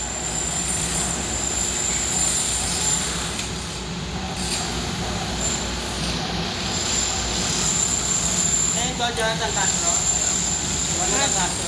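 A heavy equipment excavator scoops earth at a barangay hall, its loud diesel engine droning and rumbling steadily throughout, with people talking nearby over the machine.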